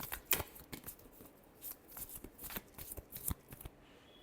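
Tarot cards riffle and slap in a short shuffle, close but soft, a series of quick flicks with no voices.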